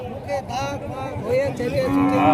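Cattle low and moo in drawn-out calls at a busy bull market in Rajshahi, close and loud over a steady crowd murmur, with several animals calling one after another.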